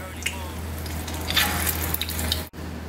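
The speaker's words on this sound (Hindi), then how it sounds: "तो कोफ्ते जो है वो फ्राई हो गए हैं" Kofta frying in a pan of hot oil over low-to-medium heat, a steady close sizzle with small pops and crackles running throughout, over a constant low hum.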